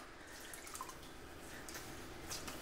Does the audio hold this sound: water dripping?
yes